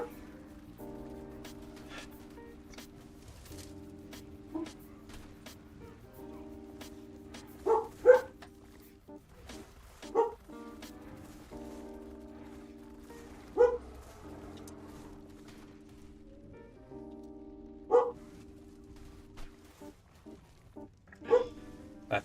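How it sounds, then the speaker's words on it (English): A dog in the video game Lost Colony gives repeated low woofs at irregular intervals over a faint, steady tonal game soundtrack, with occasional short chirping effects. "That's the horror woofing that you guys can hear."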